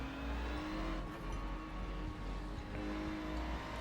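Ferrari 296 GT3 race car in iRacing, its engine droning steadily at high revs throughout with slight pitch shifts, close and continuous with no talking.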